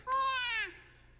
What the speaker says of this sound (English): The kitten meows back in Aoi's stead.